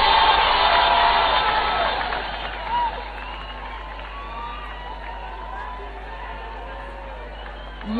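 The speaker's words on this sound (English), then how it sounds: "A warm round of applause for Honorable Isaac Ruto." A crowd at the NASA manifesto launch, a political rally, applauds and cheers for Honorable Isaac Ruto, a loud burst of clapping and shouts that fades after a few seconds into quieter murmuring.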